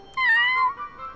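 A cartoon cat gives a single clear, mid-length meow, alone against a quiet background.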